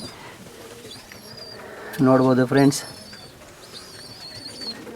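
Pigeons in a simple breeding box give one short, loud coo lasting under a second, over steady room background, with someone talking quietly nearby.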